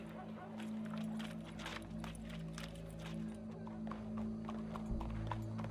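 Horse hooves clip-clopping in the video game Red Dead Redemption 2, a quiet, steady irregular patter of hoofbeats over a low droning background, with faint talk in places.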